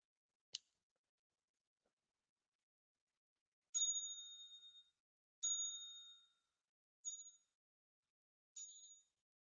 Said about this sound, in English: let me hit my little bell